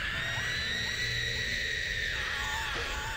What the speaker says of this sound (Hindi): पर तभी पीछे से गांव वालों के चिल्लाने की आवाज आई